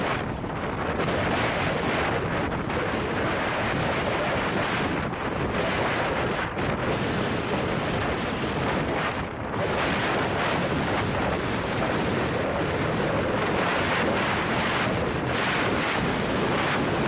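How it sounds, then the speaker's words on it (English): Storm wind and heavy waves at sea around a large Dutch-flagged fishing vessel of about 5,162 tons load capacity, a loud, continuous roar with wind buffeting the microphone throughout and no voices. "A large fishing vessel flying the flag of the Netherlands confidently passes the waves in a storm."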